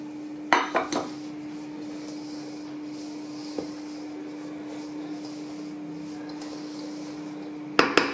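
Melted butter is stirred into sellou in a pot, with a few sharp clattering bursts of utensil against the pot near the start and again at the end, separated by a quiet stretch with faint scraping, close by.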